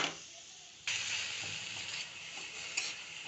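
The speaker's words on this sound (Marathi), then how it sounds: "अशा प्रकारे मीठ सगळीकडं लागलं पाहिजे अशा पद्धतीने सगळीकडं परतून घ्यायची आहे भाजी" Fenugreek leaves (methi bhaji) being stir-fried in a pan with salt give a steady soft sizzle and scraping, starting abruptly partway through and continuing at a moderate level, with one brief louder scrape near the end.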